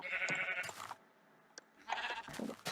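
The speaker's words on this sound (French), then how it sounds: "On va tuer ce mouton." Sheep bleating in the video game Minecraft, alpha version 1.1.2_01, two wavering bleats separated by a short quiet gap, close and clear, with no talking.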